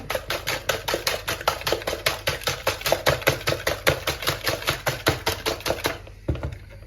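Eggs and sugar are whisked by hand for brownie batter, a fast regular rhythm of sharp whisk strokes against the bowl, close and loud, about three per second, stopping abruptly near the end.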